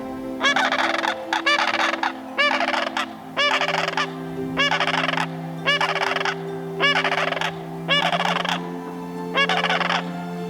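Sandhill cranes calling, loud rolling trumpeting calls repeated in about eight evenly spaced bursts, close and clear over a faint steady background tone.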